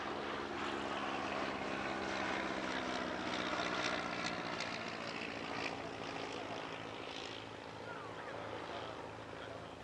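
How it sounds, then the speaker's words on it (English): A de Havilland DH-51, a three-seat touring aeroplane first flown in 1924, drones steadily overhead at an airshow, its propeller engine a continuous broad hum that slowly fades. "The DH-51 is a 3-seat touring aeroplane, and it first flew in 1924"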